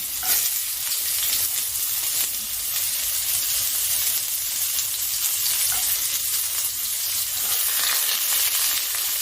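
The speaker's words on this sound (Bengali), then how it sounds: "এবার এটাকে আমি ভালো করে ভাজা করে নিচ্ছি" Crushed garlic and onion fry in hot oil, giving a loud, continuous close-up sizzle with occasional stirring.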